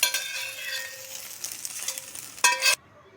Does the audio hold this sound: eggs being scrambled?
yes